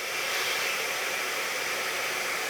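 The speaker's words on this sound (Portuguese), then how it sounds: "Agora eu vou ligar a segunda posição do secador de cabelo." Hair dryer running on its second setting, powered through a TSM 2500 W inverter, giving a loud, steady broadband whoosh of blown air with no breaks.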